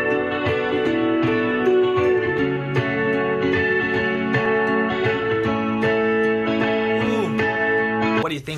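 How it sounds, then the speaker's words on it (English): A distorted electric guitar plays a melodic line over a full band backing, with effects-laden sustained notes and steady drums throughout. "I came up with a secondary guitar melody."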